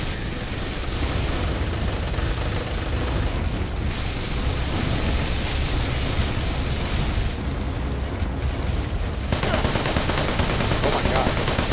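Sustained gunfire against a spider tank in the action game Wanted: Dead, loud and continuous with explosive bursts and battle noise throughout, a voice briefly heard over it.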